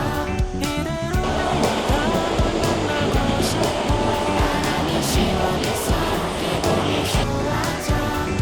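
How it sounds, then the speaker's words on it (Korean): Mountain valley stream water flows at Sinwonsa in Gongju as a continuous, close, rushing hiss with small splashes and bubbling throughout. "이렇게 보시면 시원한 계곡물이 흐르는데요."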